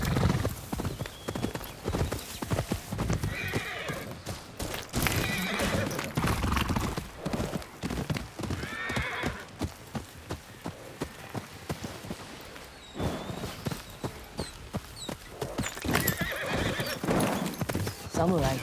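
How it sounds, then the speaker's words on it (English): Horses' hooves clip-clop steadily with repeated whinnies and neighs in the Ghost of Yotei video game, the hoofbeats continuous and close while characters speak over them. "Samurai horses."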